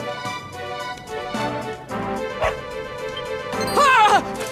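Dog barking in the Dragon Quest XI video game, a few short yips and whimpering barks over game music, one sharper yelp near the end.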